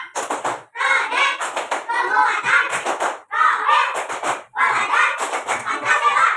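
A class of schoolchildren performs the Tepuk P5 clapping routine, rhythmic bursts of hand claps alternating with chanted group voices in short phrases, loud and close, with brief pauses between sections.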